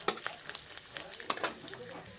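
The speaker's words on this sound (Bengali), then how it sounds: "অল্প পরিমাণে কাজু বাদামও ভেজে নেব," A small batch of cashew nuts fries in oil: a quiet, soft sizzle broken by light, irregular scraping and tapping of a spoon against the pan, heard up close.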